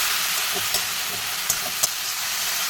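Onion paste and green chili sautéing in a pan, a steady loud close sizzle with a couple of brief stirring knocks, no speech.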